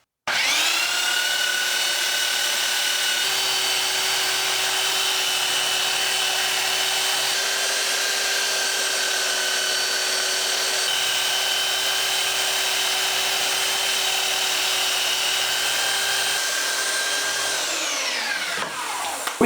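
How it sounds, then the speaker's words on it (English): A belt sander held at 90 degrees in a shop-made jig rounds over the ends of wooden arms, giving a steady, loud, continuous high whine with grinding rasp that runs nearly twenty seconds before spinning down near the end. "I threw together this jig to hold my belt sander at 90 degrees."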